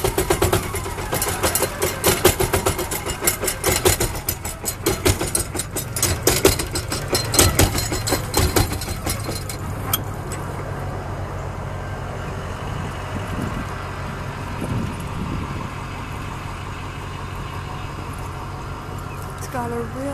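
A pump engine on a vehicle carrying a hose reel, running with a loud, rapid mechanical chatter for about ten seconds before settling into a steadier, quieter hum that continues to the end.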